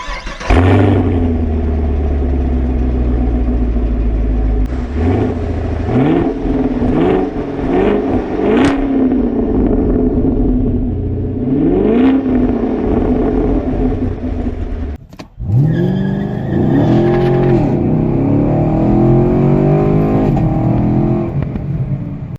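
A 6th-generation Chevrolet Camaro engine revs hard and loudly up close, with a deep rumbling idle broken by a series of rising throttle blips and a final strong, sustained rev.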